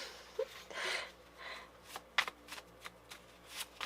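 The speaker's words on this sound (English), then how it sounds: "Apparently I can't shuffle worth a shit." A deck of tarot cards is shuffled by hand, with soft riffling whooshes and a series of quick snapping taps close up, quiet and with no one speaking.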